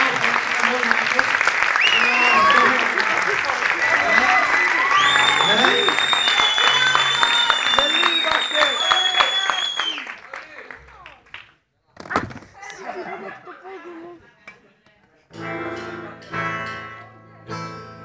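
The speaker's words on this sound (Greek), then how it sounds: "Ένα χειροκρότημα για τον Θανάση που είναι πρώτη φορά που κάνει στην Αγγλία" An audience at a celebration applauds for Thanasis, dense clapping that runs loud for about ten seconds, then breaks off into scattered sounds and bursts of voices.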